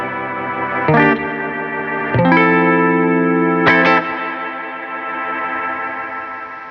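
A Fish Circuits Astronomie spring reverb pedal processes three struck chords, each attack blooming into a shimmering, sustained reverb tail that lingers and decays.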